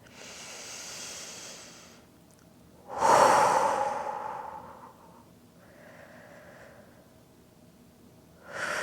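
Slow, deep yogic breaths taken while holding downward facing dog in a Kundalini practice, with a long exhale and rising inhale, close and fairly loud, with no talk.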